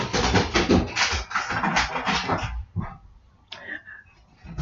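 A dog indoors gives a run of deep, heavy, rapid barks and huffs, then falls quiet before a brief whine, all fairly close and loud.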